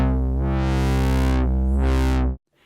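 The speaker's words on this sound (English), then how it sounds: "You have 3 different distortion types, each of which can then be played and heard here." A heavily distorted synthesizer tone from a Novation Circuit Mono Station sustains with a sweeping, buzzy filter movement, rising and falling twice before cutting off abruptly.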